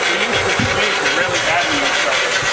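A Honda Accord's steady engine idle rumbles continuously at close range, with a whining pump-like tone layered on top and no talking.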